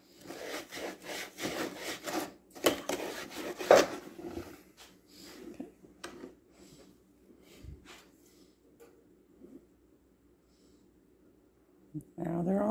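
Wood edges are smoothed by hand with an abrasive, giving a series of rhythmic rasping strokes up close, then quieter rubbing that fades near the end.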